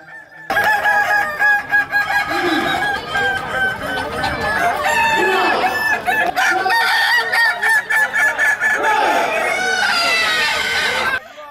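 Kukuak Balenggek chickens crowing at a crowing contest, several roosters calling continuously and overlapping in long, loud, melodic crows with crowd noise behind.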